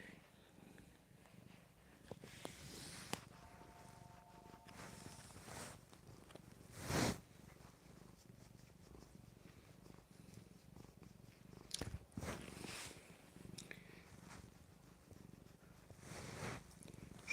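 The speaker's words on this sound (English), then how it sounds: "got a good purr going on, so hopefully you can hear it." A young cat purrs during a chin rub, steady soft rhythmic rumbling close to the microphone, quiet and continuous with a couple of brief rustles.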